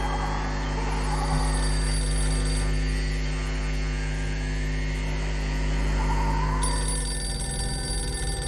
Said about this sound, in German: Hier ist auf jeden Fall mein Telefon.